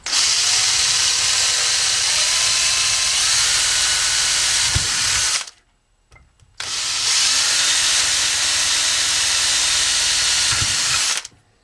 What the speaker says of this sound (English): and drill tiny pilot holes into the middle.